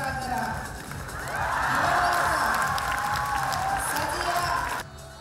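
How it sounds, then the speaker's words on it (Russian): Loud applause from a large audience at a beauty pageant catwalk swells and holds steady, with scattered cheering mixed in, then cuts off abruptly near the end. "Буря аплодисментов вызвала дефиле самой юной участницы"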